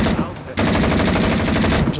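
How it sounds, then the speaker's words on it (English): Rapid automatic gunfire from the video game Rising Storm 2: Vietnam rattles in a fast, even burst, loud and close, stopping briefly and then resuming. "laying down rounds, praying I hit that man"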